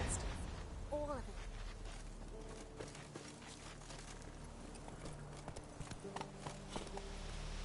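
The horse Roach trots in The Witcher 3, hooves clip-clopping in a steady rhythm, with brief voiced game sounds mixed in.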